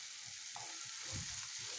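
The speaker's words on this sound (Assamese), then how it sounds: "মই এনেদৰে ইয়াক আৰু ৩-৪ মিনিটমানৰ কাৰণে ভালদৰে ভাজি ল'ম" Dry fish and hot chilies fry gently in oil over a low gas flame for a chutney, giving a faint, continuous sizzle with soft stirring sounds, no voices.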